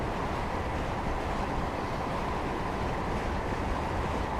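A train rolling steadily along the Waterloo to Woking line in Train Simulator 2020 gives a continuous, fairly loud rumble and hiss with no breaks.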